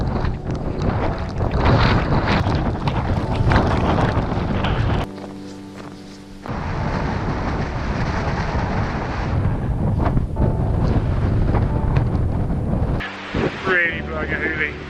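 Strong gusting wind roars loudly across the open Scottish Highlands in winter, buffeting the microphone almost continuously with brief lulls, while a person's voice is faintly audible underneath.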